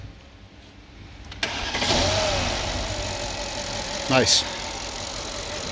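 A Ford Mustang S550 engine recovering from hydrolock cranks and catches, rising into a steady running idle close by, with a brief voice spoken over it.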